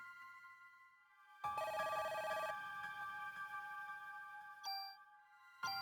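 A bell-like telephone rings in the Parasite Eve video game, a bright metallic trill sounding in one sustained burst, then lingering tones and a short chime, with quiet game ambience around it.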